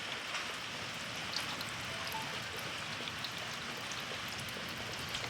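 Rain falling outdoors during a tornado storm, a steady dense hiss of drops pattering on surfaces, even and continuous at moderate distance, no voices.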